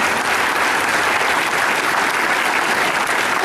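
A cosplay contest crowd applauds a contestant with dense, continuous clapping that fills the room at a steady, loud level, uninterrupted and without talk.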